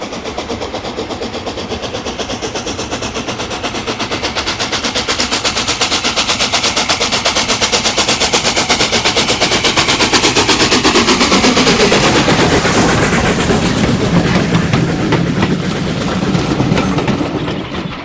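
Sir Nigel Gresley steam locomotive climbing a North Yorkshire bank, loud rapid chuffing exhaust beats in a dense steady rhythm, building as the engine nears and then easing off, heard alone.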